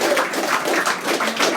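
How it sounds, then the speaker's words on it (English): Audience applause for the staff at a live debate event, a dense, steady patter of many hands clapping together, fairly close and filling the room without any voices over it. "So can we have a big round of applause,"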